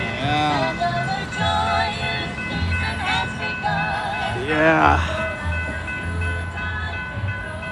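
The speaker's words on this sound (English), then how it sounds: "Now we get to some Christmas music for just a second." Cheerful Christmas music with clear melodic tones plays from the passing CPKC holiday freight train over the steady rumble and rattle of its cars at a road crossing, with a brief rising pitched swell midway.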